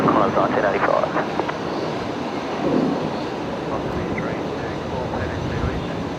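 A Jetstar airliner taxiing at Brisbane Airport gives off a steady, broad jet-engine rumble and whine across the whole stretch, with faint voices beneath it.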